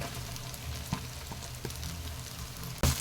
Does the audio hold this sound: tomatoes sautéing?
yes